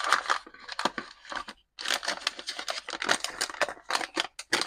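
Plastic packaging for Titanic partwork model parts being opened up close, with a rapid run of crinkling, tearing and snapping bursts in uneven rhythm and only brief pauses.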